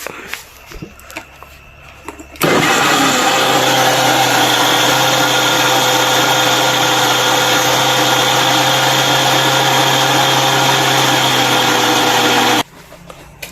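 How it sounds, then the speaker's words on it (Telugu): A mixer grinder whirs loudly and steadily for about ten seconds as it grinds finger millet (ragi), starting and stopping abruptly, with quieter room noise before and after. "రాగులు అయితే మిక్సీ పట్టేశాను"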